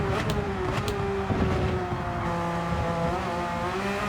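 A race car in Gran Turismo 7 lapping with traction control off: a steady engine drone with shifting pitch and tire squeal, continuous and fairly loud, with no one speaking.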